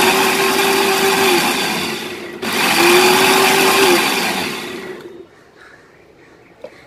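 A mixer grinder whirs loudly as it pulses mint mayonnaise in its jar, running steadily with a brief drop before restarting, then cutting off into near silence.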